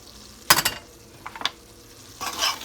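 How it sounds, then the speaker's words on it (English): Chopped onion and pepper tossed into a hot pan of curry chicken liver, giving short bursts of sizzling and clattering stirring with a brief quieter gap between them, close and fairly loud. "we're going to take this onion and pepper and we're going to throw that in there"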